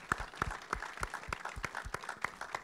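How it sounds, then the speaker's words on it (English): A small audience at a film Q&A claps for producer Malte Grunert, with sparse, distinct hand claps in an uneven rhythm that sound faint and thin rather than like a full ovation. "And so a big applause."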